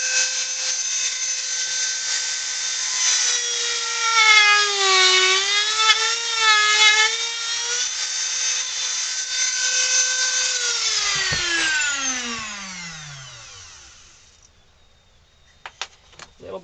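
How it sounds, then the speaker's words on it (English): A Dremel rotary tool runs steadily against a carved wooden ventriloquist dummy figure, its high whine wavering in pitch as the load changes, then spinning down and stopping, followed by a few small taps. "And then we're going to use our Dremel"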